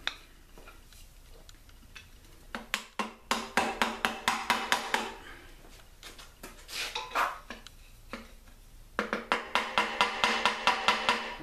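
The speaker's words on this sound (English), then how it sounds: "we'll tap with a screwdriver, and then I'm going to try to put a screwdriver here where the gasket is" A screwdriver taps and pries at the intake manifold of a small-block Chevy engine during a teardown, making bursts of sharp metallic clicks in quick rhythmic runs, fairly close and loud, with short pauses between the clusters.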